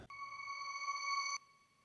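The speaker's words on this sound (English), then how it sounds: "reversed it, so that it would then create this reverse sweep effect" A synthetic reversed-reverb sweep, a swelling tone with steady harmonic layers rising out of a soft attack, holds for over a second, then cuts off abruptly, leaving a faint tail.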